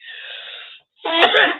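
A person in a home kitchen sneezes: a drawn-out wheezy inhale, a brief pause, then a sharp loud burst of breath, close and alone.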